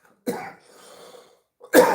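A single sharp cough bursts out, followed by a faint breathy murmur and then a second loud cough or throat-clearing, both close and dry against an otherwise quiet background.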